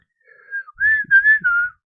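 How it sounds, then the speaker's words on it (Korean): One person whistles a short, wavering melody up close, a few sustained notes rising and falling with brief gaps, with nothing else heard. "휘파람 하면 안 되죠?"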